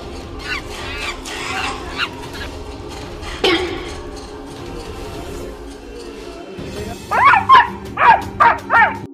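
A dog barks in a quick run of sharp, loud yelps toward the end, following a stretch of muffled background noise and voices, as dogs chase monkeys in a city in India.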